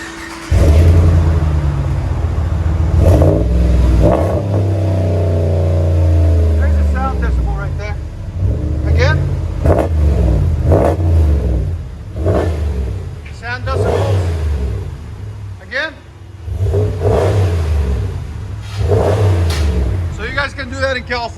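A RAM 1500 pickup's 5.7 HEMI V8 heard from inside the cab, its exhaust giving a deep rumble with a sustained rev early on and then a series of short blips. Voices talk over it throughout.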